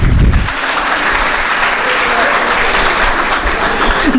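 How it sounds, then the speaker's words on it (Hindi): A large crowd at a Hindi gathering honouring women who pledged to donate their bodies to AIIMS hospital breaks into loud, sustained applause that fills the room evenly for several seconds. "एक बार जोरदार तालियां उन लोगों के लिए"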